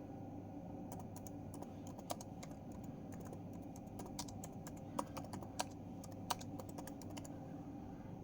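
Typing on a computer keyboard, a long, irregular patter of soft key clicks with occasional sharper taps, close and steady over a low background hum.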